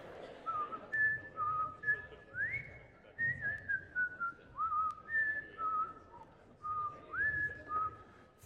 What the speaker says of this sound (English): the guy on stage who's whistling the Jeopardy song